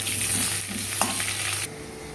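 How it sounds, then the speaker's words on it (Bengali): Potatoes seasoned with salt and turmeric fry in hot oil for mutton kosha, a dense close sizzle with stirring that drops suddenly quieter near the end, no talk. "এবার আলুগুলো ভেজে নেব।"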